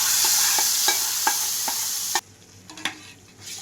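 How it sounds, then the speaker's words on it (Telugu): A tempering of spices crackles and sizzles as it goes into a pot of sour raw mango soup, with several sharp stirring clicks before the hiss drops away and a few more taps follow. "తాలింపు కూడా ఇందులో వేసేసుకోవాలి"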